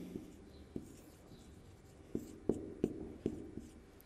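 Chalk writing a grammar rule on a classroom board: a series of quiet scratchy strokes with sharper taps, clustering more densely toward the end, close and without talk.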